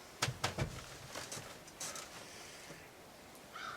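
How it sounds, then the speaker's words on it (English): A cabin window at a rustic log cabin hunting camp is pushed open, giving a few close, sharp mechanical clicks and creaks followed by quieter scraping. "Guess I can open the window."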